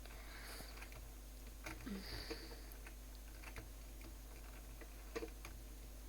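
Keys on a computer keyboard, including the space bar, are tapped in scattered light clicks during a Minecraft parkour map game, quiet and close over a steady low hum, with a sniff in the middle.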